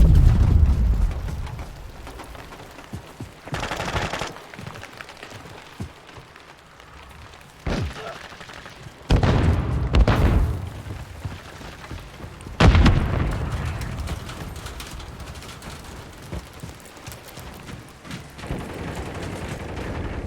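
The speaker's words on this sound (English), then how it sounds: "Friendly cruise missile deployed." Booming explosions from cruise missile strikes in a Modern Warfare 3 team deathmatch on the Underpass map, several heavy blasts spaced apart with rumbling decay and scattered gunfire between them, no talk.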